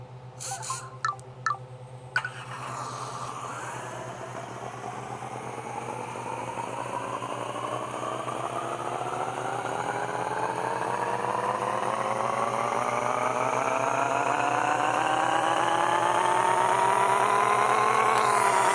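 A simulated VR38 engine in the Pixel Car Racer video game runs on a dyno, opening with a few sharp clicks, then a steady, steadily climbing rev that grows louder and higher over a constant low hum.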